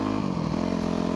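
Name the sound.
motorcycle engine while riding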